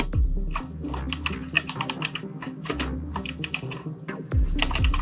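Clicking keys on a computer keyboard while text is entered in CorelDRAW, a close, irregular patter of keystrokes over a low background hum, with no talking.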